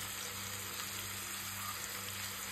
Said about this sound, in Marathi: हे बघा मस्त मच्छी फ्राय होते